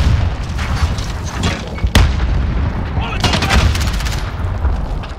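A grenade goes off in Call of Duty Modern Warfare multiplayer, one heavy boom near the two-second mark that sits inside continuous gunfire and battle noise, with more bursts of shots following.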